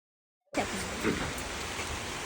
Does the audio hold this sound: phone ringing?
no